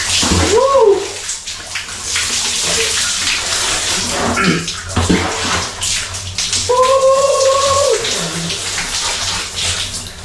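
Well water splashes and pours in bursts during an outdoor bath, loud and close, with brief voices and exclamations breaking in over the running water.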